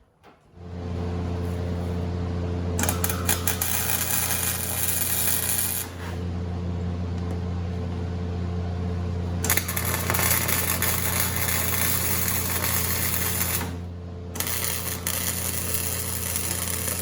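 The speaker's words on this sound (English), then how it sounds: "I'm going to go weld this to the rear diff so that I can drive this old girl home." Arc welding on a Ford 8.8 rear differential under an old Fox-body-sourced pickup, a steady close crackling buzz that runs in long bursts with brief pauses between strikes, over a constant low hum.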